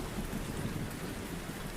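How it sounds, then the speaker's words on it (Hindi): Heavy rain pours down steadily with a deep, rolling rumble of thunder beneath it, a dense and continuous storm wash with no voices. "और भयंकर वर्षा होने लगी और बुरी तरह से बिजली कड़कने लगी"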